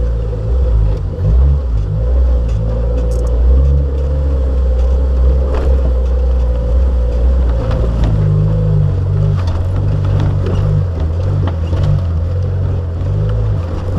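A jeep engine labors steadily as it climbs a rocky dirt track strewn with large stones, a loud, close rumbling drone that deepens and strengthens partway through, with occasional knocks and rattles.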